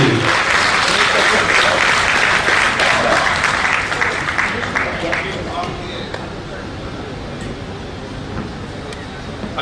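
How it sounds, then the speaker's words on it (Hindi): Loud applause from a ceremony audience honoring Om Birla at a Vaishya Mahasammelan event in Jaipur, dense clapping that swells early then gradually thins and fades over several seconds. "आपके लिए जोरदार तालियों की गूंज। जोरदार तालियां बजती रहनी चाहिए।"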